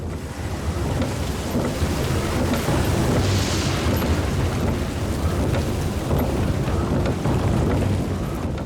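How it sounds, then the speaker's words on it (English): Heavy monsoon rain pours in a dense, steady roar with deep rumbling thunder underneath, loud and continuous throughout with no voices. "And then most heavy monsoon rain."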